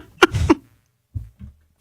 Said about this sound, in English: Been coughing the whole show.